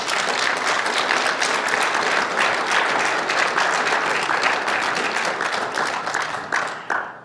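Hearty applause from a crowd at a Tea Party meeting, many hands clapping loudly and steadily before tapering off at the end.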